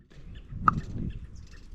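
A bird call rings out once, sharp and fairly clear, over a soft outdoor background in the Tanzanian bush with the Hadzabe tribe.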